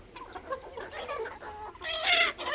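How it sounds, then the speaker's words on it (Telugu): Sonali chickens on a small poultry farm cluck and murmur in a soft overlapping chorus, close by, with a louder burst of clucking near the end. "ఈ కోళ్ళు వచ్చేసి సొనాలి, కంప్లీట్ నాటుకోళ్ళు కాదు."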